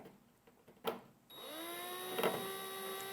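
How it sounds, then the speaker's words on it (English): A power drill bores a small hole with a 3/32 bit through a range hood vent damper during installation, a close, steady whine that starts after a few soft knocks and holds for nearly two seconds. "I'm using a 332 drill bit, and I'm going to put a little hole in there."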